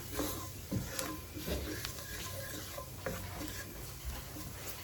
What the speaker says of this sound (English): So we're going to dust these and then we're going to brown them.